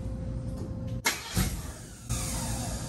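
A car fitted with borrowed mufflers cranks and catches, with a sharp start and a low rumbling engine that surges briefly and settles into a steady, deep idle.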